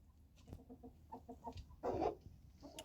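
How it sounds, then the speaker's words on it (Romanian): Farm turkeys of different colours call on a cold evening, giving a faint series of soft, rhythmic clucking notes followed by one louder squawk, heard close with no talk. "Astea sunt curcile, diferite culori"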